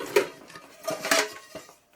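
A frying pan and plates clatter as they are handled and packed for winter tent camping, a few close metallic knocks and clinks spread over two seconds, fairly quiet with no talk.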